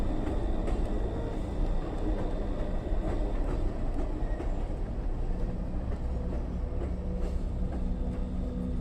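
A freight train rolls steadily along the rails, a loud, dense rumble with faint clicking wheel rhythm and metallic tones, sustained without pause.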